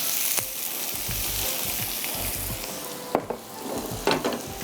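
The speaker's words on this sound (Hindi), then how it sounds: "अब इसको आप सौटे होने दीजिए।" Chopped onions sizzle and fry in a hot pan on a home stove, a steady close crackle broken by repeated scraping stirs and a couple of sharper clinks near the end.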